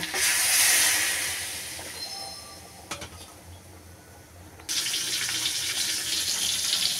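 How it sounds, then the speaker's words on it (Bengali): Water pours into a cooking pot of vegetable khichuri holding fried rice, lentils and spices. It makes a close, rushing hiss that dips briefly midway, then surges back louder and steady. "পরিমাণ মতন পানি দেব।"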